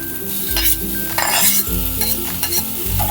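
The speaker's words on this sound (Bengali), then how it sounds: "চিংড়ি মাছটা দেওয়ার পরে খুব ভালো করে আমি ভেজে নেব।" Prawns and onion fry in a pan, a loud steady sizzle with repeated stirring and scraping strokes, close up and with no speech.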